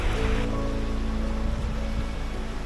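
A fast-flowing stream rushing through Lathkill Dale in the Peak District in winter, a loud, steady broadband roar of water heard close by without any voices.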